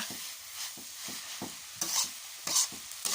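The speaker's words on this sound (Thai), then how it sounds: "อันนี้ใช้ผัดใช้ตะหลิวผัดก็ได้นะคะ" A spatula stirring a sticky coconut sweet mixture in a pan, with repeated soft scrapes and sizzling in a steady rhythm, plus a few brighter clinks near the end.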